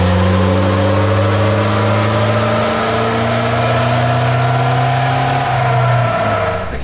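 A turbocharged Toyota Hilux N70 revs hard on a dyno, its loud engine note climbing steadily in pitch through a long pull before easing off at the end, close and without talk.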